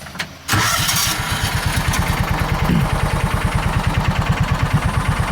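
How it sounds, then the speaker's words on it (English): A John Deere Gator 4x2 with hard-start and clutch faults cranks briefly, then catches and settles into a loud, steady, rapidly pulsing idle close by, with a small bump in the running partway through. "let's go ahead and get this thing started back up"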